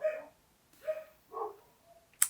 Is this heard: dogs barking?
yes